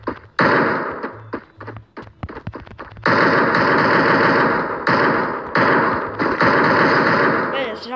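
Gunfire in the Free Fire video game: a few single shots, then long sustained bursts of rapid automatic fire, loud and close, with someone talking over it.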